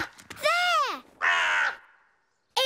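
A cartoon alien creature gives crow-like caws, two loud, drawn-out squawks close by with a third starting just after a short silence.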